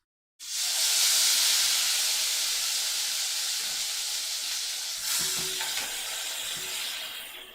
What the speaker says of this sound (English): We're going to move it right over to the frying pan and see if this works.